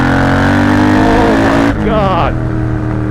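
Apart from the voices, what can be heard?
Triumph Bobber motorcycle engine revving in first gear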